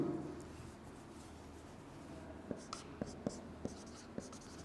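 Chalk or marker taps and scratches out a question on a board in a statistics lecture, a series of faint sharp strokes in quick succession over a quiet room hum.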